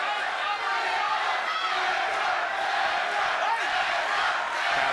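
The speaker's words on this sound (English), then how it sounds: "Crowd chanting, Edgar," A boxing arena crowd chants a fighter's name, Edgar, in a loud rhythmic roar that fills the space continuously from start to end.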